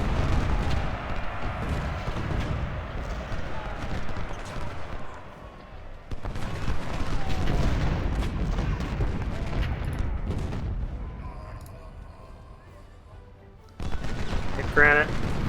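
Civil War battle gunfire and artillery in the video game Ultimate General: Civil War: dense, continuous musket volleys and booming cannon shots, loud and overlapping, with voices shouting orders over the din.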